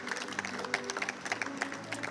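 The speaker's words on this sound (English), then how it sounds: "in traditional goalball fashion thank their opponents and applaud their performance" Goalball players at the Tokyo 2020 Paralympic Games applaud their opponents after a match: soft, scattered clapping in an arena, fairly faint and brief.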